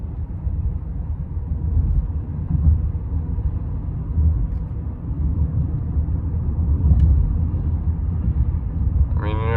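A 2004 Lexus LS430 drives along with a steady low engine and road rumble as the automatic transmission shifts gears; the cabin stays fairly quiet, with a brief higher tone near the end.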